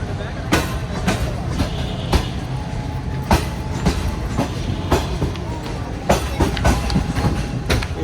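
Pak Business Express passenger train running, with a continuous rolling rumble and regular sharp clickety-clack wheel beats on rail joints, close and loud throughout.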